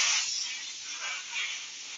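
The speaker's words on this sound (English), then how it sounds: "This stuff is like spraying plastic on it." An airbrush sprays paint onto a vinyl toy in a steady, close hiss that holds for about two seconds with a slight rise and fall, no voices over it.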